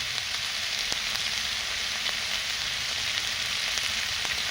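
Bengali masala spice paste with ground coriander sizzles steadily in oil for a river bhola fish tel jhal curry, a continuous close frying hiss with occasional sharp pops and no voices.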